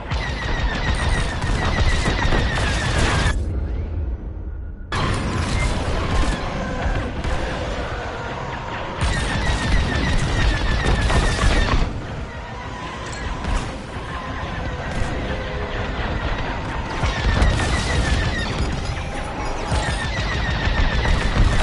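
Dense, loud bursts of turret and starfighter blaster fire from the space combat video game Star Wars: Squadrons rattle almost continuously, with rapid repeated shots and explosions and one brief lull near the start.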